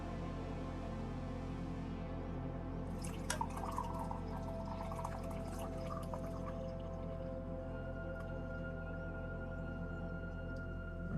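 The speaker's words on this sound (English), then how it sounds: "Let me show you the tea pouring content." Tea poured from a small kettle holding about 550 milliliters, a soft splashing trickle that starts a few seconds in and runs for several seconds over a steady low background hum. Nobody speaks.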